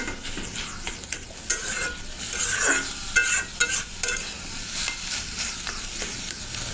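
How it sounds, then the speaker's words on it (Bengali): Boiled, mashed red amaranth greens tempered with onion and garlic and stirred in a hot pan: close, continuous sizzling with frequent spatula scrapes and taps against the pan. "শাকটা বাগার দিয়ে নিলাম আর এখন কিছুক্ষণ নেড়ে চেড়ে মিশায় নিব"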